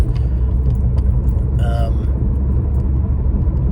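Steady low rumble of road noise inside a moving car, with a brief jingle of keys partway through, while someone talks over it.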